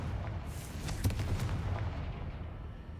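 The Confringo blasting spell goes off in Hogwarts Legacy as a muffled booming explosion with a low rumble and crackle, fairly faint beneath game ambience.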